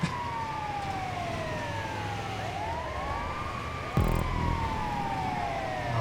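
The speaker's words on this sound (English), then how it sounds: "We're in an ambulance." An ambulance siren wails in the video game GTA 5 during a race, its rising and falling tones sweeping continuously and fairly loud, with a sudden bump in engine and road noise partway through.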